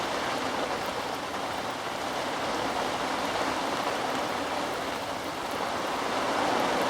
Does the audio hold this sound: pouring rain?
yes